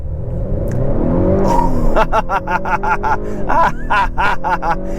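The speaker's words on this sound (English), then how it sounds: "then the turbo spooled up and the front tire squealed a little bit" A 2022 Honda Accord Sport 2.0T with a 10-speed automatic launches from a complete stop, brake-torqued to about 2,000 RPM. Its loud, close engine note rises as the turbo spools, with rhythmic pulsing surges and a brief front-tire squeal.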